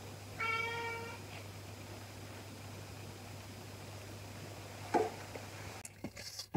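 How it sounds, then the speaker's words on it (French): A house cat meows in a short, high-pitched call near the start, followed by quieter rustling and a couple of faint bumps over a steady low hum in an indoor room. "sinon il va pas arrêter de miauler"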